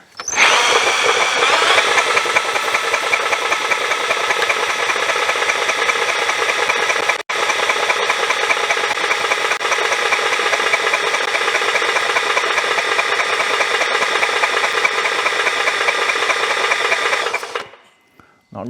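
Hand sanding an Onan 4000 watt generator's slip ring with 1000 grit sandpaper wrapped on an eraser, a steady close scraping rub that runs continuously for about seventeen seconds with one short break.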